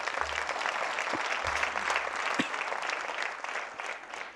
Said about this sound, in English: Shall we clap our hands for that?